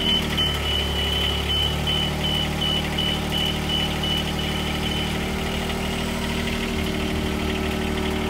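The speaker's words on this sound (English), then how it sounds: "We're then going to notice the machine's going to automatically self-level and we'll begin to lift." Duralift Jibbi boom lift self-levelling and starting to lift: a steady engine and hydraulic drone with a constant whine, loud and close, its pitch shifting slightly as the machine moves, with no talk.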